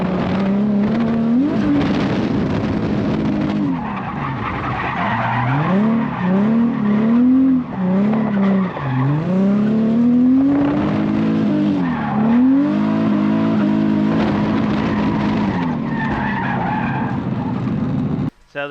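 A car spinning out around the corners of a race track on a course day, tires squealing and skidding with rising and falling engine revs, loud and close throughout.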